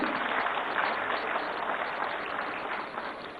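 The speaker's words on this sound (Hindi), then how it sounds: "जोरदार तालियां" Sustained loud applause from a crowd at a ribbon-cutting inauguration of a convention center in Khajuraho, dense and steady throughout, fading slightly near the end.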